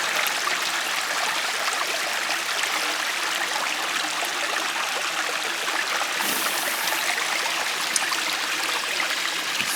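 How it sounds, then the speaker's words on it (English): A babbling brook on a hiking trail at Squires Lake runs through a culvert, a steady close rushing and gurgling wash that fills the whole stretch without any voices. "A little babbling brook."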